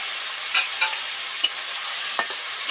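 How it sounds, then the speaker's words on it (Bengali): Spices, turmeric and chillies fry in a pan with a splash of water while being stirred for cabbage chachchari, a steady soft sizzle broken by several short scraping stirs. "ধরে ধরে 2-4 মিনিট মশলাগুলো হলুদ লঙ্কাগুলো সব কিছু মিশিয়ে দেব"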